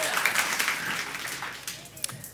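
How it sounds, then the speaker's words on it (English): Scattered audience clapping at a church sermon, a brief modest round over a room murmur that tapers off within a couple of seconds. "That actually is worth a clap"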